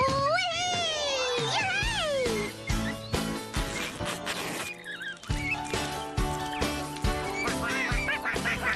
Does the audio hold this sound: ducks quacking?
yes